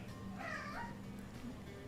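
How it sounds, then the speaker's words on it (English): A pet cat yowls and meows loudly at someone peeking in and out of a doorway, a couple of drawn-out cries close to the mic over a steady low room hum. "every time she pokes her head in, my cat is yelling at her"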